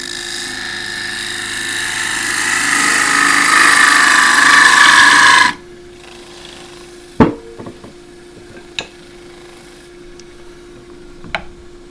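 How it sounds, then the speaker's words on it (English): Scraper cutting a pistachio wood bowl on a lathe: a steady, rising tool-on-wood rasp with motor whine for about five seconds, then it stops and only a few faint knocks follow. "It's a 35mm bowl scraper."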